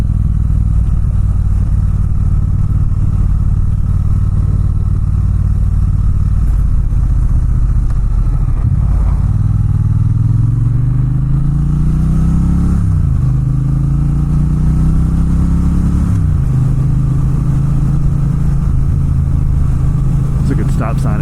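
A Triumph Bonneville T120 Gold Line motorcycle engine drones loud and steady while riding, with pitch rising and falling through gear changes against rushing wind.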